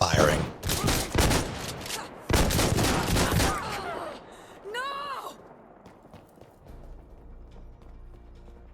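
Hip-fired gunfire in the shooter Insurgency: Sandstorm crackles in dense bursts of sharp shots up front, then tapers off, with voices talking over parts of it.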